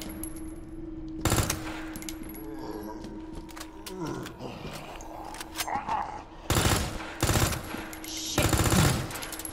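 Bursts of SMG gunfire in the Resident Evil 2 sewer level: loud, rapid broadband volleys near the start and again in a cluster toward the end, with creature growls and rumbling ambience between them.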